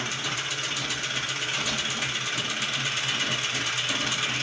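A sewing machine stitching sleeve lining runs continuously at a steady fast speed, a close, even mechanical whir with rapid needle clatter and no pauses or voices.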